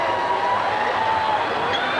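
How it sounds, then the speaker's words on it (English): Cricket crowd roaring and applauding for Brian Lara as he takes the field, a dense, sustained wash of cheering noise with no break. "You can just hear the thunderous applause as Brian Lara"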